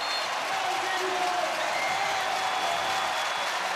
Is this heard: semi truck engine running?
no